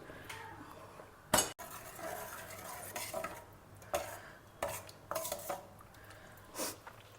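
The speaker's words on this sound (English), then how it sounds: "Next I am just adding a portion of this cooked dal to it." Cooked dal spooned into a pan of cooked raw mango and green chilies, then stirred with a utensil, giving soft scraping and occasional clinks against the pan in short bursts, with no talking.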